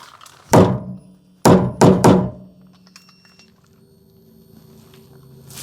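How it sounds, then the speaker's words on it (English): Three hard, hollow thunks ring out as the bottom of a 2007 Ford Expedition fuel tank is struck, one knock followed by a quick double, close and loud against a quiet garage background. "I'm going to hit the bottom of the tank."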